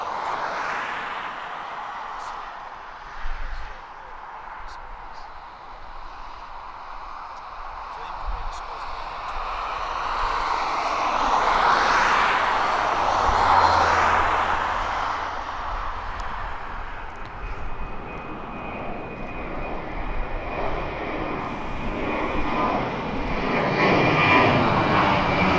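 A Ryanair jet airliner takes off at East Midlands Airport, its engine roar building steadily to a loud, sustained rush near the middle and then holding strong. Voices speak faintly at points underneath.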